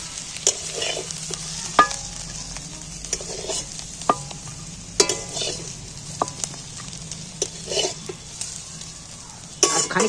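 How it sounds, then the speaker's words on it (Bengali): Onions are stir-fried in hot oil until reddish, with a steady close sizzle and repeated scraping stirs and clinks of a utensil against the pan throughout, and no talking. "পেঁয়াজটা একটু নাড়াচাড়া করে লাল লাল করে একটু ভেজে নেবো"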